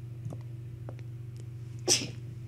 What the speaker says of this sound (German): Das Niesen.